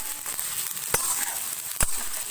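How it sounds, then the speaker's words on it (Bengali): Onions frying in a pan for a Hariyali chicken dish, a steady close sizzle with a couple of sharp stir clicks, no voices. "পেঁয়াজটা একটু গোল্ডেন করে ভাজতে হবে।"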